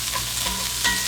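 Vegetables sauté in hot oil with a close, loud, continuous sizzle, and a spatula scrapes and stirs through the pan.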